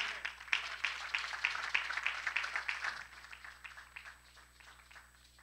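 A church congregation applauds to acclaim the Lord, a steady patter of many hands clapping that fades in the last couple of seconds, with faint voices mixed in.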